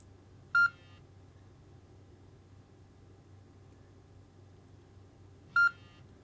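A FLYSKY G11P radio transmitter sounds its sensor alarm: two short, sharp electronic beeps about five seconds apart over a faint, steady hiss.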